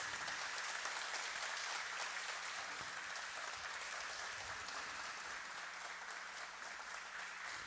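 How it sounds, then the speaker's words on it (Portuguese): Sustained, dense applause fills a civic honorary citizenship ceremony, even and continuous from start to finish with a faint low hum beneath. "O homenageado, Dr. Pedro de Oliveira, a quem saudamos com uma grande salva de palmas."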